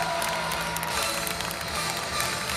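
An audience at a French rugby federation tribute evening applauds, with dense sustained clapping mixed with cheering and whoops, loud and unbroken, with no one speaking over it.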